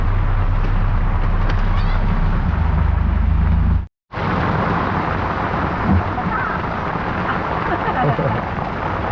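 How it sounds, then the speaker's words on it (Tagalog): Heavy rain pours down continuously as a loud, dense hiss with deep rumbling underneath, broken by a sudden brief silence near the four-second mark before resuming just as hard. "Grabe, lakas ng ulan."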